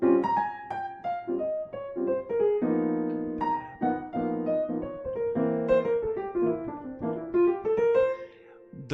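A piano plays an even run of single notes stepping up and down a scale, clear and close, with a steady rhythm.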